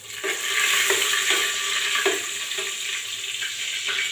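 Dried desiccated coconut sizzles in melted ghee in a pan, a bright steady frying hiss broken by several soft rhythmic stirring scrapes, close and alone without voices.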